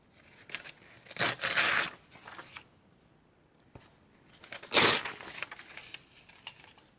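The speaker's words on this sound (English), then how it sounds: "I'm tearing up book" Pages tearing out of a book in two bursts, a longer tear near the start and a sharp loud rip later, with quiet rustling and small crinkles between.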